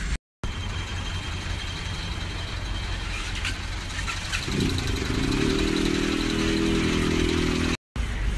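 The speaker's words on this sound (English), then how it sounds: "motorbikes rule Jakarta" Busy street traffic full of motorbike engines in Jakarta, a continuous rumble with one bike revving up close partway through, all at steady loudness.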